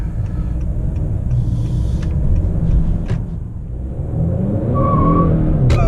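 A 2019 Honda Accord Sport 2.0T with a 10-speed automatic accelerates at half to three-quarter throttle, its engine rumble steady and loud from the cabin with road and tire noise underneath.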